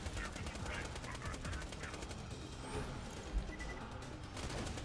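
Modded Hyperion SMG in Borderlands 2 firing continuous rapid bursts, a dense rattling stream of shots at moderate level amid game noise.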